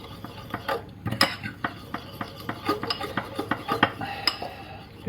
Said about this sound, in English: I'm going to stir it in with a fork to start with before we start to kind of whisk it